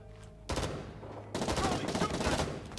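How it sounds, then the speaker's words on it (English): Rapid bursts of enemy gunfire in a video game, loud and dense from about half a second in, intensifying after the first second with continuous rattling shots. "Charlie's shooting at me, goddammit."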